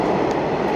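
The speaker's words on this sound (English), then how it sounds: "It's a nice metro. I will give a 10 out of 10 on this metro." Metro train in motion, a loud, continuous rumble of wheels and carriage noise heard from inside the car, with no talk.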